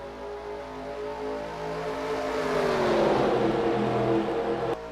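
Stock cars in a racing video game pull away from the green flag at Madrid, several engines droning together in a loud, layered roar whose pitch climbs steadily as they gather speed.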